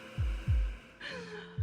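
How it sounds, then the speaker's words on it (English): A soft, low heartbeat plays in a video game while characters sleep, deep double-thump pulses repeating at a slow steady rhythm under a faint hum and brief higher tones. "they have like this heartbeat in the background."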